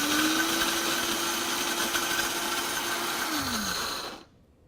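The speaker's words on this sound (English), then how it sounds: "Let's let this blend for a second" A blender grinding snack bar ingredients into powder with a loud, steady motor whine that drops slightly in pitch near the end, then cuts off abruptly to near silence.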